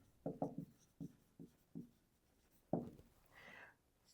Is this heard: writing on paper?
yes